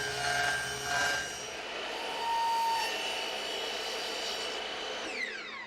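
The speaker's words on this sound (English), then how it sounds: "Now all we need to do is just cut it up into the sizes for each of our bottoms" A power saw cuts plywood box bottoms to size, giving a steady loud whine with a sustained broadband roar that runs unbroken for several seconds before the blade winds down.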